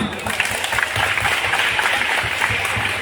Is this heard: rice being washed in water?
no